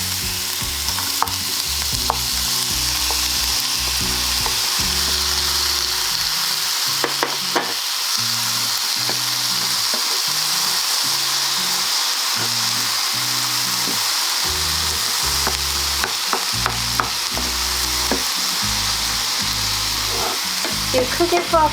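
Pineapple chunks sizzle steadily in a pan over medium heat for vegan fried rice, a loud continuous frying hiss broken by repeated low scraping and knocking from stirring.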